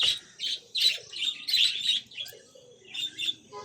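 Pet birds kept under a cloth cover after heavy rain chirp in quick, bright bursts close by, several calls overlapping in an uneven rhythm with soft rustling underneath.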